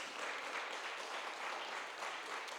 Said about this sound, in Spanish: Deme un aplauso fuerte al que vive por todos los siglos.